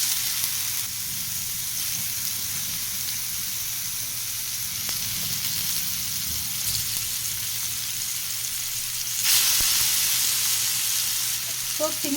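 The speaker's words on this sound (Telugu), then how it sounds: "ఒక 1 or 2 minutes అయిన తర్వాత ఈ ఫిషెస్ అన్నీ వేసేసుకుంటాను" Fish fry in hot oil in a home kitchen pan, a steady close sizzle that keeps going throughout and briefly grows louder and brighter near the end.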